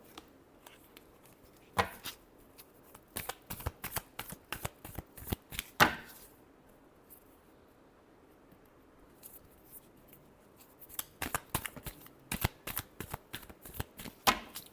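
Tarot cards are shuffled close up in quick bursts of crisp riffling clicks, with a quiet pause in the middle before the shuffling resumes.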